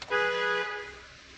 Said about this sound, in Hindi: long horn